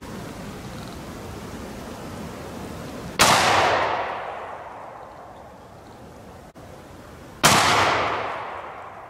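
Two loud .223/5.56 rifle shots from a short-barrelled rifle, a full metal jacket round followed about four seconds later by an expanding point round, each a sharp crack trailing into a long outdoor echo.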